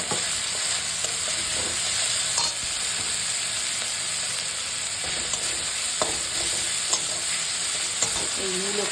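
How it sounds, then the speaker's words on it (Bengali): Tender radish greens frying in a pan with whole garlic cloves, fresh turmeric paste and halved green chilies, a continuous close sizzle with faint stirring scrapes and occasional small pops, no voices. "এই মূলো শাক ভাজা"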